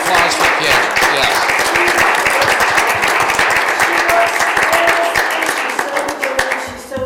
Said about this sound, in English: Let's have a round of applause for Kim.